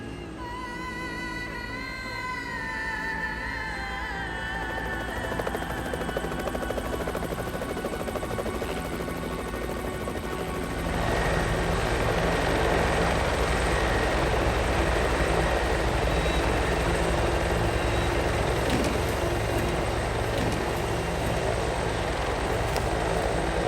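A helicopter flies close above a large wildfire in Europe, its dense rotor and engine roar steady and loud throughout, swelling slightly louder partway through, with no talk.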